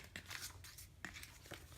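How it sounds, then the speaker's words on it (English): Planner stickers being shuffled and handled on a desk, giving soft papery crinkles and light peeling rustles in a few short bursts, quiet and close, with no talking. "As I shuffle all my stickers around."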